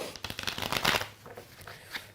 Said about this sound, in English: I don't know if we remember to shuffle before the game, so we're gonna do it now.